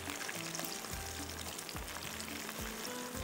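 Food crackles and bubbles as it fries in oil for shahi qeema chawal, a faint, steady sizzle with soft splashy pops, heard alone without talking.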